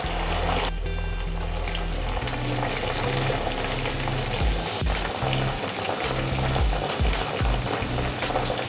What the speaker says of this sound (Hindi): तो तेल हमारा गर्म हो गया है, इसमें हम डीप फ्राई करेंगे भिंडी को डाल के